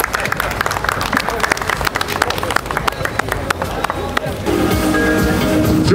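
Applause and clapping from the audience at the ELMIA forestry fair, dense and steady throughout, swelling fuller near the end amid crowd noise.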